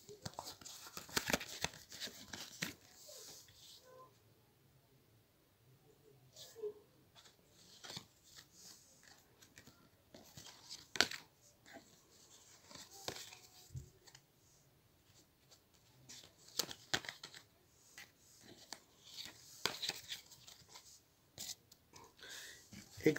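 Tarot cards are spread out and drawn on a table, giving quiet, intermittent rustles, slides and soft taps in scattered clusters against a near-silent room.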